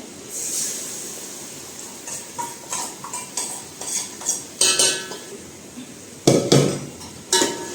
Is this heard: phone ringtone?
no